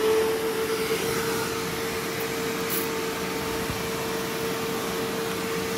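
A Bissell Little Green portable spot cleaner switches on and runs with a steady, loud vacuum motor whine and a constant high tone, close by and alone for several seconds.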